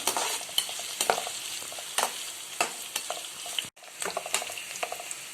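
Onions sautéing in a pan with coriander and garlic for kara kulambu, a steady close sizzle broken by repeated scraping stirs of the spoon, no voices.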